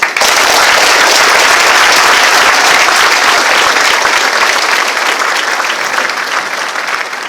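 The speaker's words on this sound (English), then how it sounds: "please join me in giving them a round of applause." Loud, dense audience applause for Marine Corps drill instructors and recruiters at a Lima Company recruit graduation ceremony, sustained by many hands and tapering slightly toward the end.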